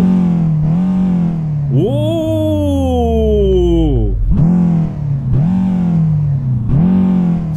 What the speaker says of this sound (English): let's try this engine now. There we go. That sounds like a 2-liter petrol.